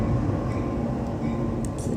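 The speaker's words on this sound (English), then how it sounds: "the train goes by, barreling through, can't stop it now." A train rolls past with a loud, steady rumble and grinding roar close by, continuous for the whole stretch with no voices.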